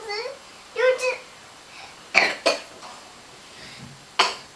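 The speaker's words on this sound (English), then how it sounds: "What do you do when you cough" A small child coughs a few times in short, sharp bursts close by, with brief childish vocal sounds in between and quiet pauses.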